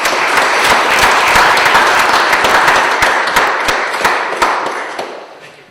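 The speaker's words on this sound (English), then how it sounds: "Can I get a round of applause?" Loud, close applause from an audience at a First Nation band election candidates' event, holding strong for several seconds with a few sharp individual claps, then tapering off to silence.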